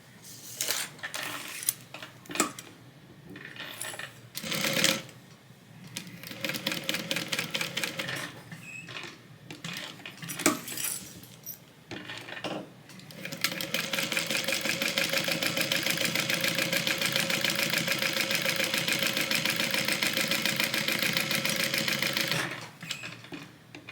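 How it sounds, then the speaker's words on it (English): A sewing machine stitches a seam on a zippered tote bag, starting with short stop-start bursts and then running in one long, steady rapid whir before stopping. "sew along the short edge, along the bottom edge that is on the zipper, and then back up the short edge with a 1/8 inch seam allowance"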